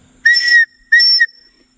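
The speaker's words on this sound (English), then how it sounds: "Right there is our whistle." Two sharp, shrill blasts from an emergency-kit survival whistle sound up close, the first slightly longer, separated by a brief pause.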